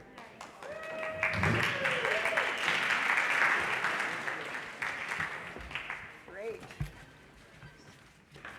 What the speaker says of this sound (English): you're applauding yourselves as well as caregivers